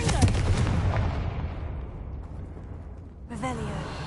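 A Confringo spell blast in the Hogwarts Legacy video game lands as a deep, loud boom that rumbles and fades over a few seconds, then a second impact bursts in near the end, with speech woven through.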